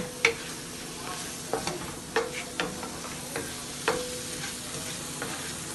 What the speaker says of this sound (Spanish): Se lo muevo para que se unan todos los ingredientes.